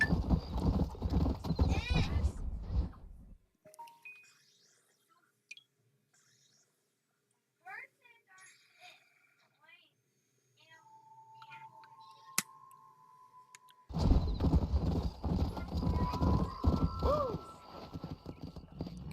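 Horse hooves clip-clopping at a ride in the Red Dead Redemption video game, with a horse whinnying, loud at the start and end around a quiet stretch with faint tones.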